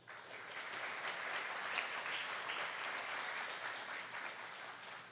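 Audience at a graduation ceremony applauding, a sustained wash of many hands clapping, fairly distant and soft, holding steady throughout without talk.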